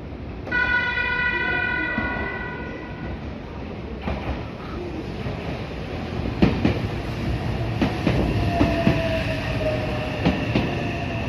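A two-car train, stopping at Hotta, Narumi, Arimatsu and Chukyo-Keibajo-mae, pulls into platform 4 at Kanayama station, starting with a high electronic tone, then rumbling wheels, clicks and squealing brakes growing closer and louder as it arrives.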